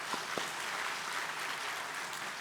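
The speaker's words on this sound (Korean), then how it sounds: "다시 한번 1학기 성경학교 수료하신 모든 분들께 우리 축하와 격려의 박수 한번 드리겠습니다." Church congregation applauding Bible school graduates during a Sunday service, a steady wash of many hands clapping in a large hall, even and moderately loud after a couple of sharper claps at the start.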